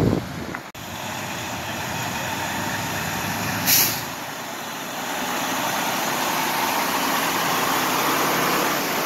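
A Walmart truck rolls through flood water on a flooded Chicago-area road, a steady rushing engine and water wash up close, with a brief air-brake hiss partway through and the rumble swelling toward the end.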